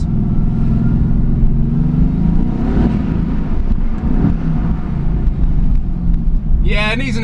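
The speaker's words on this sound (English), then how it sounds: "Let's see how the car sounds." A car fitted with an enhanced aftermarket exhaust drives through an underpass, its engine a steady, loud low drone throughout, with a voice starting up near the end.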